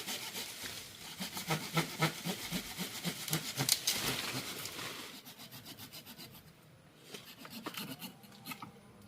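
A blade cuts back and forth through the bark of a rose apple (chamba) branch in preparation for bark grafting, giving close, steady scraping and sawing strokes that pause briefly before a run of quicker, lighter rasps.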